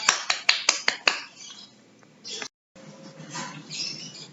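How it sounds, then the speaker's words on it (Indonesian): Brief classroom applause, a handful of sharp claps in quick succession that fade after about a second, followed by a pause and a rustling room. "Beri tepuk tangan."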